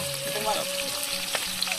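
Oil sizzles and crackles steadily as chicken fries, with faint clinks of stirring and a low hum underneath.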